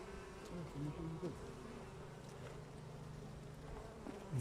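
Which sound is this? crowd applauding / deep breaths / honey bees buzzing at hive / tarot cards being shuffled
honey bees buzzing at hive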